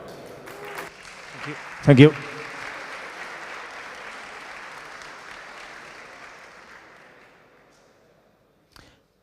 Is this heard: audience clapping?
yes